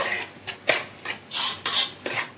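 A spoon stirs mutton curry in a metal pot, making a series of about six scraping, clinking strokes at a steady rhythm, close and fairly loud with no talking.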